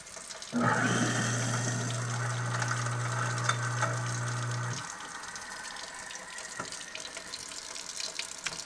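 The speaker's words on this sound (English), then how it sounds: "So we're going to run the cold water and turn it on and get to hear how it sounds" A garbage disposal grinds with a loud steady hum for about four seconds over running cold tap water, then shuts off while the water keeps flowing.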